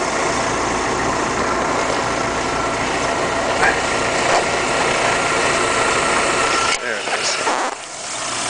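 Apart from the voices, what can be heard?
VW Cabrio 2-liter 4-cylinder engine running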